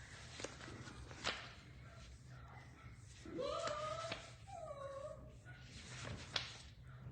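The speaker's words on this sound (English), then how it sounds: "Dog is going crazy." A dog whimpers and whines in a few rising cries while moving about indoors, with soft footstep-like thumps and shuffling at moderate distance over a steady low hum.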